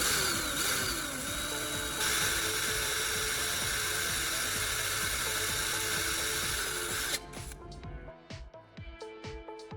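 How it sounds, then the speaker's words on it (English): A small drill bit bores a cavity into a carbon block held in pliers, giving a loud, sustained high-pitched whine that stops abruptly near the end, leaving quieter clicks and handling noises. "I'll hold the block securely with pliers and use a small drill bit to create a tiny cavity in one end"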